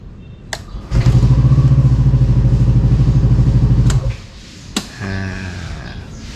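A motorcycle's electric starter cranks its engine in a loud, rapid, steady chugging for about three seconds, then stops, followed by a brief click and a fainter lower hum.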